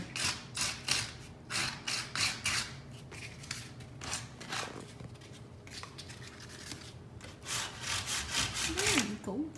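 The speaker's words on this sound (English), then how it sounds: "just lightly sand over it." Light hand sanding over carved wood detail during a home renovation, a series of soft rhythmic rasping strokes repeating at a steady pace, close and fairly quiet.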